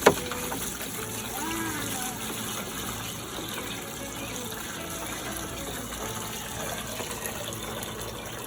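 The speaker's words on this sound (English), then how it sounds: "we're just gonna fill up this bucket instead of trying to take out the hose right now" Water gushes steadily into a bucket from a tap or spout beside a toy garden water and sand table, a faint, continuous splashing fill.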